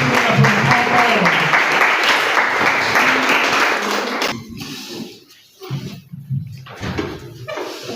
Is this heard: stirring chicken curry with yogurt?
no